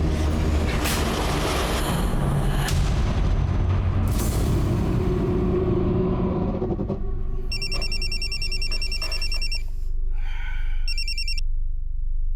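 A telephone rings in repeated electronic bursts, loud and near, following a stretch of rumbling traffic or train noise.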